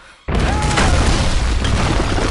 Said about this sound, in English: Also, oh shit, grenade launcher.